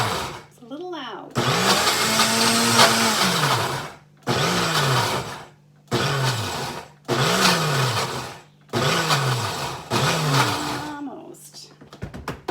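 Kitchen blender pureeing basil pesto with olive oil into a paste, running in five loud whirring bursts with short pauses between, the motor pitch rising and dropping at each start and stop.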